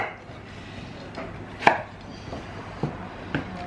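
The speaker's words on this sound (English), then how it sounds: "I just cut them to the length of the chip, and just cut them into nice wedges" A kitchen knife cuts peeled sweet potato into chip-length wedges, giving a few sparse, crisp chops on a board, about four distinct cuts spaced unevenly in an otherwise quiet room.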